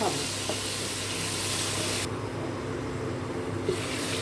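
Ginger paste frying in hot oil in a pan for a potato and paneer curry, a steady broadband sizzle running unbroken at close range, briefly quieter midway before flaring again.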